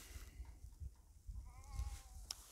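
Goats grazing on dried-out grass in a drought give a few wavering bleats, fairly close but quiet, over faint outdoor rustling with no talk.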